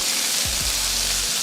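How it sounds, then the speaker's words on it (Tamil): Onion, carrot and beans salted and sautéing in a pan hiss with a steady bright sizzle, with a couple of low scraping stirs near the start and one more near the end. "நல்லா வதக்கிடுவோம்."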